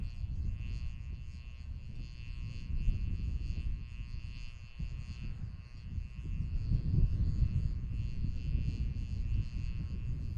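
NASA RS-25 rocket engine during a long-duration hot fire certification test, a steady loud low roar with rumbling broadband texture that holds throughout with slight swells.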